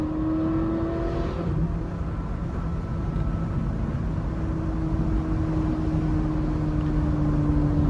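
A Ferrari 458 Spider drones steadily on the move, its exhaust note holding a sustained engine hum with a slight rise in revs, loud and continuous through wind and road noise.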